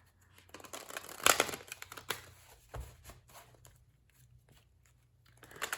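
Tarot cards shuffled by hand in a quiet room, a few soft riffling bursts and light papery flicks with a louder flurry early on, then scattered small taps and slides.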